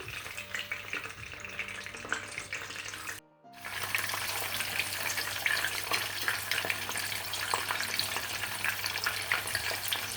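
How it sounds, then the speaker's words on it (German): Tofu fries in oil in a pan, a loud crackling sizzle that cuts out briefly for a moment, then resumes even stronger and keeps spitting steadily up close. "Wir nehmen erstmal den Tofu, weil der Tofu braucht eigentlich mehr Öl."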